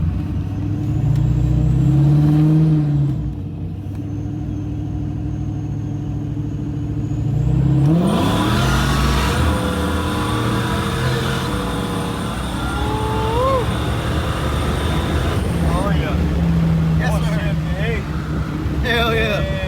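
The Carbon Fox, a car running on methanol, revs its engine in rising and falling surges that swell loudly toward the middle, with people talking over the steady engine drone.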